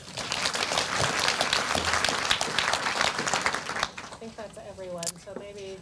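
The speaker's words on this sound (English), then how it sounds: "round of applause for everyone." A room of colleagues at a staff meeting breaks into a round of steady applause lasting several seconds, then fades as a voice begins talking.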